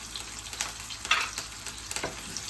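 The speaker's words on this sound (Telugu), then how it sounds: "ఒక 2 మినిట్స్ ఆయిల్లో ఫ్రై చేసుకుంటే సరిపోతుందండి." Onion, green chilies and curry leaves fry in hot oil for a cluster bean and toor dal tempering, giving a continuous close sizzle with brief crackling bursts and stirring clatter, with no voices.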